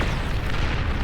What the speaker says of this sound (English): Oh, the Pulsar Cannon. The ultimate in conventional defense.